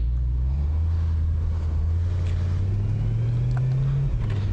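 A 2008 BMW M3 E93 convertible's V8 engine accelerating in manual mode on a mountain road, a loud, rising drone that climbs steadily in pitch before a brief drop near the end, with wind noise over it.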